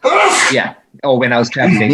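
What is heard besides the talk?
sneeze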